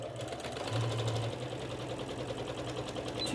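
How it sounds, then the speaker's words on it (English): A sewing machine runs steadily as it stitches fabric for a face mask, a continuous close whirring and rapid mechanical chatter with no pauses. "You're going to put your right sides together and sew those at 1/4 inch."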